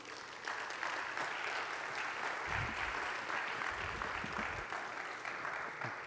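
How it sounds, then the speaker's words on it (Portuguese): An audience in a church gathering applauds steadily to welcome a doctor as speaker, a dense, even clapping that carries at a moderate level for several seconds without pause. "Uma salva de palmas para o doutor."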